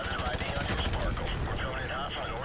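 Rapid automatic M4A1 rifle fire rattles in a Call of Duty: Modern Warfare Remastered campaign mission, a dense run of close, loud shots with someone talking over it.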